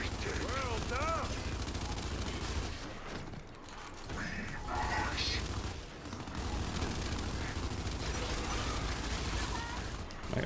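Gunfire from Lancer rifles in a shooter video game, with repeated bursts of shots running throughout, loud and dense, mixed with game sound effects and people talking over it.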